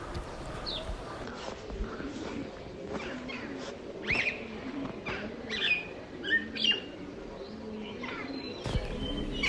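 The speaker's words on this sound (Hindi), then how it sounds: "हर साइड परिंदों की आवाज़ें, मीठी मीठी बोलियां" Birds call in a quiet Kashmir mountain forest near Shajkan, with scattered faint chirps and tweets at varying distances over a soft, hushed background and no talking.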